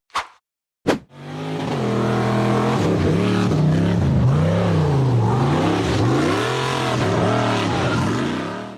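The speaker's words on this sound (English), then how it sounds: "The red buggy accelerated hard up the dirt mound" A red off-road buggy revs hard while climbing a dirt mound, its loud, near engine rising and falling in pitch through repeated throttle surges after a brief sharp start.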